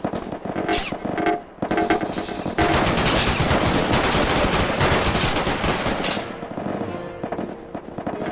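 Rapid bursts of gunfire in the VR game PunjiVR, loud and sustained, with dense automatic-sounding shots rolling through most of the stretch before easing toward the end.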